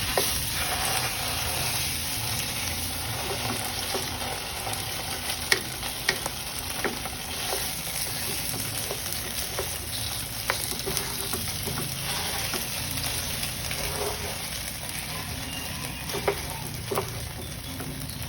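Cream cheese is stirred into a hot pan for cream cheese pasta, giving a continuous close sizzle with scattered scraping clicks of the utensil and no voices.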